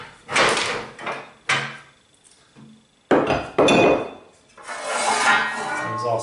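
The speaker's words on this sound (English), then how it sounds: "There's also the ash pan." The metal ash pan of a Hunter Herald 5 Slimline wood stove is pulled and handled, giving several sharp metallic clunks and scrapes with pauses between, close and fairly loud, and a voice speaks briefly in between.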